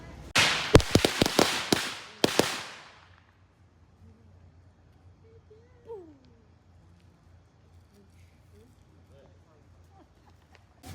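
Fourth of July fireworks and firecrackers fire off in a loud, rapid string of sharp bangs, then a final crack, after which the scene fades to quiet background with a few faint voices.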